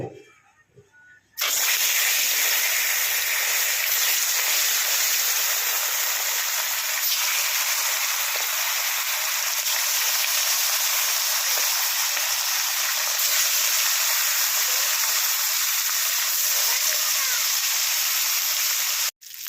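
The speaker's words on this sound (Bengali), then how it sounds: "মাছগুলো ভেজে নেব।" Fish coated in salt and turmeric frying in oil in a wok, a sudden loud burst of hissing sizzle that holds steady and intense before cutting off abruptly at the end.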